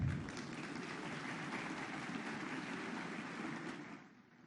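Audience applause for Larissa at a talk in Brazil, a dense, steady wash of clapping from a large crowd, fairly distant and even, fading toward the end.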